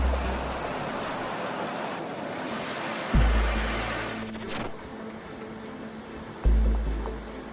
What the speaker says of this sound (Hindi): यहां महासागर के पानी में लावा उगलता ज्वालामुखी नेचर के गुस्से का एक अलग ही रूप